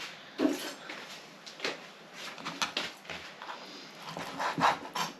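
A knife sawing through raw bacon on a board, giving soft rubbing and scraping strokes at an uneven pace with a few sharper scrapes, close and fairly quiet.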